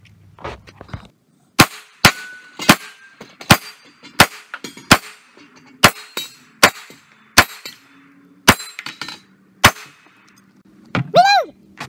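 A Springfield XD Compact .45 pistol fires about a dozen sharp, loud shots at steel targets in an uneven, steady rhythm, and each shot is followed by a short metallic ring. A voice briefly calls out at the end.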